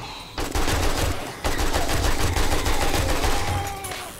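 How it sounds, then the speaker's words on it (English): Sustained rapid explosions and gunfire in the video game 7 Days to Die, a dense loud continuous barrage with a sharp onset, no talk over it. "Something's exploding."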